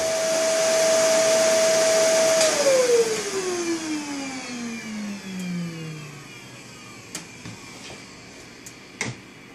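A vacuum cleaner whines steadily, then powers down with a falling pitch, leaving faint clicks and taps afterward.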